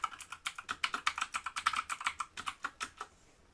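Rapid computer-keyboard typing of a username and password, a quick run of crisp, close key clicks in an uneven rhythm, alone in a quiet room.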